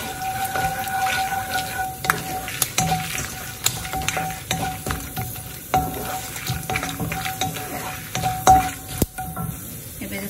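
Chopped onions cooking in a pan for a chana dal, pumpkin and potato curry, a continuous sizzle with scattered clinks and scrapes from stirring, close by and unvoiced.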